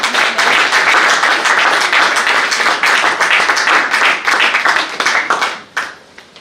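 An audience at a conference on integration in France breaks into loud, sustained applause, dense clapping filling the room before thinning out and fading near the end.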